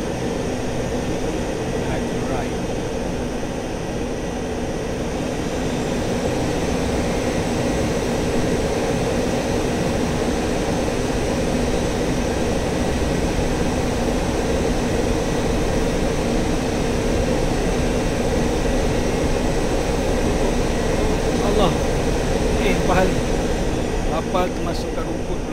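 A Su-25T jet taxiing in the DCS World flight simulator gives a steady, continuous engine drone and rumble, loud and unbroken throughout, with faint higher tonal whine.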